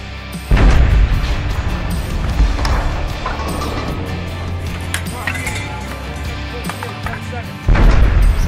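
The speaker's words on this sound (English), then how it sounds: "So that's the sound of them pulling the lanyard, firing the round off." An artillery gun fires a round during a Royal Canadian Artillery crew competition outdoors, with a heavy boom opening the clip and another near the end, rumbling clatter and movement in between.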